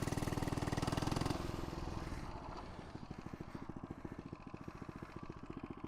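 Small FRP GMB100 mini bike engine ridden off-road, starting with a loud steady drone that drops into a rapid, pulsing putter as the bike slows and then pulls on again, close and alone with no talk.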